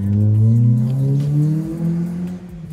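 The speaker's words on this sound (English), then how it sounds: "I know y'all hear that VTech." A 10th-generation Honda Civic VTEC engine revs loudly up close, its high-pitched whine slowly dropping in pitch over a couple of seconds, with no talking.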